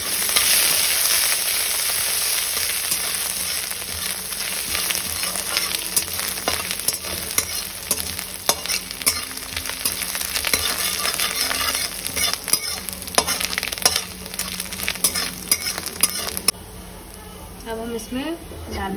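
Grated ginger sizzles in hot oil in a pan with a pinch of asafoetida, broadband frying hiss steady throughout with scattered scraping stir clicks, close and moderately loud, briefly dipping near the end before resuming.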